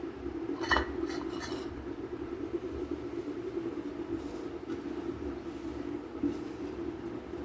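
A metal stand and steel tiffin box clinking in a pot of heating water, a couple of bright metallic clinks near the start over a low steady rumble.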